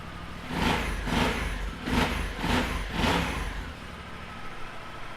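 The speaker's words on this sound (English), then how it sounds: "Really throaty sound to the engine" A 2013 Yamaha XT1200Z Super Tenere motorcycle engine cranks and fires, revving in several throaty pulses before settling to a low rumble, close and loud.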